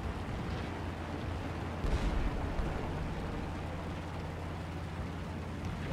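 Bombs bursting on a battleship in the War Thunder game, a dense, continuous low rumble of explosions and crackling fire that swells briefly partway through, loud and unbroken with no talk.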